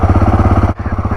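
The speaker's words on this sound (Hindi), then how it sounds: "बाइक को कोल्ड स्टार्ट करते हैं" A Royal Enfield Himalayan 450 motorcycle idles loud and close just after a cold start in sub-zero mountain air, with a fast, even thumping rhythm that briefly dips before picking back up.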